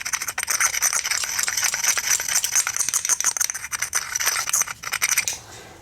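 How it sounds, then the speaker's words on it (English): Caked old gas residue is scraped off the carburetor of a Husqvarna DRT900 rear tine tiller that was left outside for two years, in close, rapid, gritty rasping strokes that stop abruptly near the end. "Scrape this out a little bit more."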